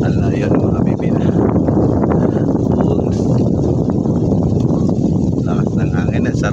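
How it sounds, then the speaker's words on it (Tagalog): Strong wind roars into the microphone in a loud, constant rumble with no letup, filling the whole stretch, in countryside rice fields ready for planting in the Philippines. "lakas ng hangin, sarap ng hangin talaga dito sa probinsya"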